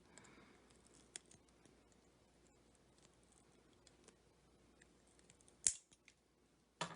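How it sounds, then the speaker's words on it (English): Flush cutters trim component pins on a soldered circuit board, making a few sharp, isolated snips against a quiet background, with the clearest cuts near the end. "I'll trim down these pins."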